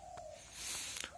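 Pet birds set out in the sun give a few soft, distant coos under a faint background hiss.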